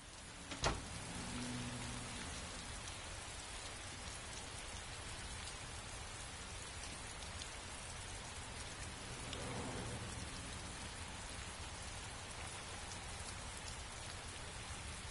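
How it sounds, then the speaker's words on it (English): Steady rain falls in the video game Heavy Rain as a continuous, even hiss of drops on surfaces, with a brief low thump early on and no voices. "It's raining. I'd better get back inside."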